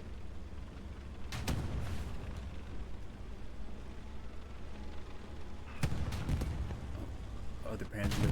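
Tank cannon fire in Hell Let Loose on Carentan as a Sherman knocks out a Panzer, heard as a few sharp booming shots amid steady battlefield rumble, with a commentator talking over it.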